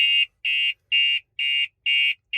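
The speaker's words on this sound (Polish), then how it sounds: "W tej wersji jeszcze dodatkowo mamy syrenę, która powinna odstraszyć potencjalnego złodzieja." A Dacia Duster's anti-theft siren sounds after an engine that started and then stalled: loud, high, even electronic beeps, five regular pulses with short silent gaps between them and no talking.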